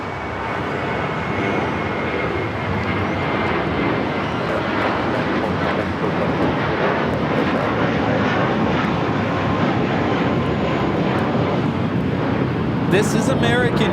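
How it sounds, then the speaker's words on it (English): An American Airlines A321 takes off at a large airport, giving a loud, sustained roar that holds steady throughout, with a person talking over it. "This is American Airlines 1994 taking off to Phoenix on the A321."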